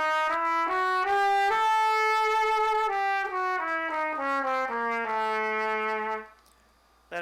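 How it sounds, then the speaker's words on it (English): Diminished jazz scale played note by note on a tonal instrument, a steady run of clear, evenly timed pitches stepping through the scale before the final note rings and fades, alone with no talk. "That is your diminished scale."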